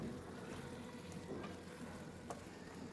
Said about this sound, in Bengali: এরপর ভেজে রাখা ফুলকপিগুলো দিয়ে নেবো ভালো করে মশলার সঙ্গে মিশিয়ে নেবো